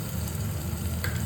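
Spicy ginger and green chili paste sizzles in a hot pan while sabudana khichdi is being made, a short, steady, close crackle.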